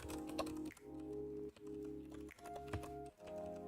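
Arrow keys on a split computer keyboard tapped in a handful of separate presses, close and clear, with short gaps between them over a steady low background hum.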